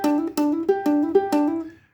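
Short guitar riff, picked as a quick run of about six ringing notes in a steady rhythm, close and clear, fading out at the end with no talking.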